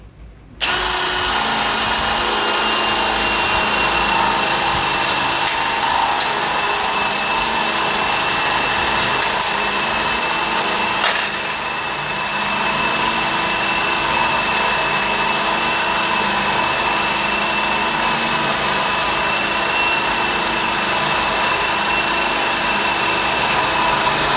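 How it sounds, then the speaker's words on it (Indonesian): A cordless hammer drill bores into thick teak on speed 2 drilling mode, running continuously and loudly, a steady high whine with a faint grinding edge, holding nearly unchanged for the whole stretch. "hammer drill atau cordless drill Anda menggunakan bor kipas lalu untuk mengebor kayu yang keras"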